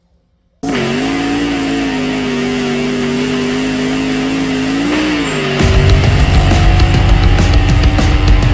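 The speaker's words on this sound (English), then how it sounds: "today I'm going to show you guys how to do a real burnout in a stick shift car" A stick shift car starting a burnout in third gear, its engine snapping from silence into a loud sustained rev that climbs, then breaks into harsher roaring tire spin near the end, very close and with no talk.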